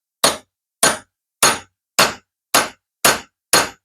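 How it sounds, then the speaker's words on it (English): Seven evenly spaced metallic hammer strikes ring out on a socket being driven down to seat a 3-point hitch seal on a New Holland TN70A tractor, each a sharp clang with a short decay, close and alone. "I am hitting the higher point of this socket as I guide it down"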